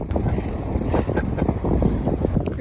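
Steady wind gusting across an open Oregon beach, a broad rumbling roar buffeting the microphone continuously and fairly loud, with no voices.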